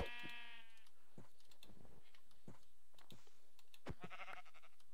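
Sheep in the video game Minecraft bleat in short, wavering cries at the start and again near the end, with sparse soft clicks and taps in between.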